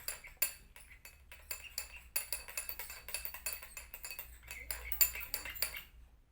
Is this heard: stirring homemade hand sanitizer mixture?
yes